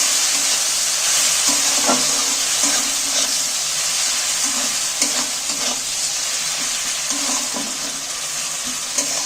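Chopped tomatoes and green chillies fry in a pan with a continuous loud sizzle and hiss, while repeated stirring strokes and light spoon scrapes sound close by, no voices.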